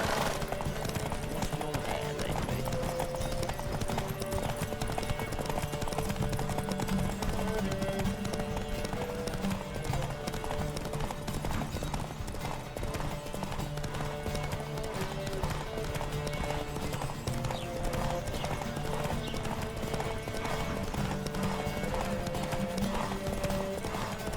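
Horses gallop in The Witcher 3 with rapid, continuous clip-clop hoofbeats and a steady rush of movement, a dense rhythmic pounding with game music layered underneath, no speech.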